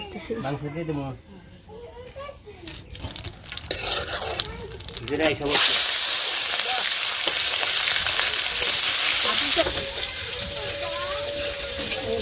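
Meat cooking in a pot with onion in a village kitchen, a loud steady sizzle that bursts in partway through and continues, preceded by people talking nearby.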